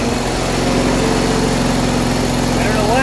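A repaired garden tractor's small engine runs steadily at a fast idle, loud and close, with a rapid even putter throughout and no talking.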